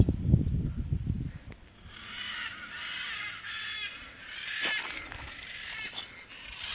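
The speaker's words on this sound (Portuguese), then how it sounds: "Ali tem umas araras ali, ó." Wild macaws calling outdoors on a sunny hillside, a harsh raspy squawking chorus at moderate distance that carries for several seconds after a brief low rustle at the start.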